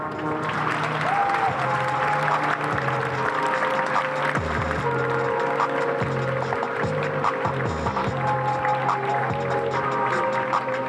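A crowd at a sculpture unveiling applauds steadily and continuously, a dense sustained wash of clapping with a low hum and music-like tones beneath.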